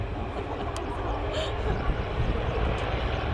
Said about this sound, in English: And you see how manoeuvrable that aircraft is.